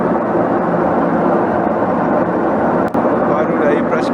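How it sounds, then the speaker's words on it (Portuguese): A Consul 7.5 kg washing machine on its spin cycle roars loudly and steadily, a constant turbine-like whoosh with a brief dip near the end. "fazendo barulho terrível, muito alto, parece assim uma turbina do avião quando vai decolar, no momento da centrifugação"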